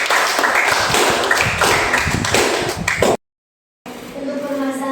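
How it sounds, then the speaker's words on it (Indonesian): A small group at a teacher-training presentation claps in a brief burst of sharp, uneven hand claps that stops abruptly, followed by silence and then a voice with music underneath. "Oke, tepuk tangan buat kalian"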